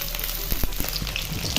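Cut pointed gourd frying in hot mustard oil, a dense, loud and close sizzle with a few sharp spatula knocks.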